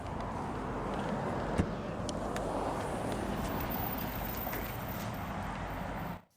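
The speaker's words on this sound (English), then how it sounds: "Exhaust." A 2020 Kia Soul S exhaust just after start-up gives a steady, close idle rumble with a constant broadband rush. It holds for about six seconds, then cuts off abruptly.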